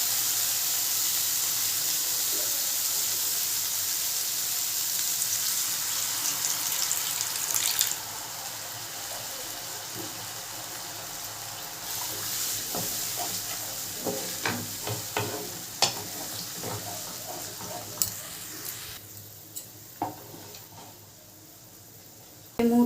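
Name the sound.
water added to sizzling fried spice masala for banana kofta curry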